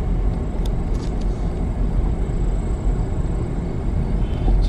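Car driving slowly on a rural West Virginia road, a steady low engine and tire rumble from inside the vehicle, continuous and moderately loud with no talking.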